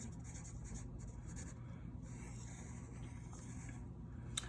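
A marker or chalk writes on a classroom board in steady, faint scratching strokes over a low room hum, with no one talking.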